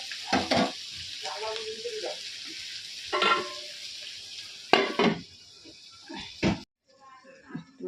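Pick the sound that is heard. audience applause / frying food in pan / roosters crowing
frying food in pan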